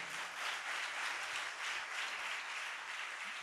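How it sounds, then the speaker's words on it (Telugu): A church congregation claps loudly together at a Sunday service in Chennai, a steady dense wash of applause lasting throughout with no pause. "చప్పట్లు కొట్టండి గట్టిగా."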